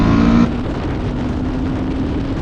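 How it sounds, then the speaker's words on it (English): A 2024 Honda XL750 Transalp motorcycle engine roars up close with induction noise: a short tonal rasp at the start, then a steady, loud rumbling drone. "That induction noise, man."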